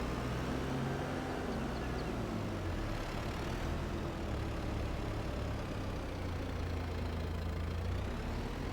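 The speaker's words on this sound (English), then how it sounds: "Works perfect with our big tractor." A big tractor engine in Farming Simulator 22 runs in a steady low rumble with a faint knocking texture, constant and moderately quiet, with no talking over it.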